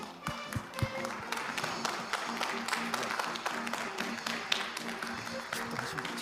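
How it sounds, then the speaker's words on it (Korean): A church congregation at a Korean men's mission closing worship claps steadily and fairly softly, a dense, even patter of many hands with faint voices beneath it. "박수합시다."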